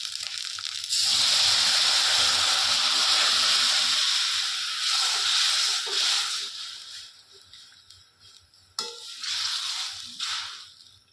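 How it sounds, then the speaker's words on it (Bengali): Soaked chana dal goes into hot oil tempered with ginger paste and sizzles in a loud, steady hiss that gradually eases and flares up again briefly near the end. "এবার আমি ডালটা এর মধ্যে ঢেলে দেব"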